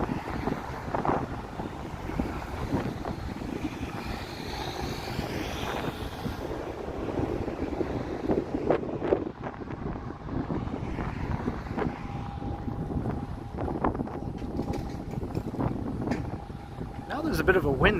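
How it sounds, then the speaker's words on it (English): Wind gusting against the microphone while walking through downtown Toronto on a sunny spring day, a continuous rumbling buffet with someone talking over it. "Now there's a bit of a wind walking in this direction."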